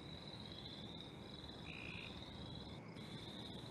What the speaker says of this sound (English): Cope's gray tree frog.